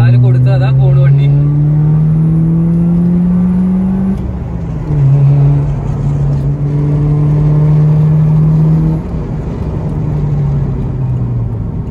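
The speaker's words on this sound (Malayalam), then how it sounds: "അപ്പൊ നമ്മള് ജസ്റ്റ് ഗിയർ ഡൗൺ ചെയ്ത് കാല് കൊടുത്ത് അതാ പോൺ വണ്ടി." A Subaru Forester AWD with a naturally aspirated 120 PS boxer engine drones steadily as it is driven, its pitch rising through gear changes with a drop after each shift, while a person talks over it.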